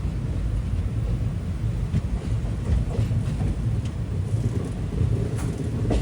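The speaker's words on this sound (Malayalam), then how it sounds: "ഒന്നാം നമ്പർ പ്ലാറ്റ്ഫോമിലേക്കാണ് ട്രെയിൻ പോകുന്നത്." The Kollam to Chennai Egmore Express rolls toward platform one, a steady low rumble of moving rail cars with faint rhythmic clatter, close and continuous throughout with no talk.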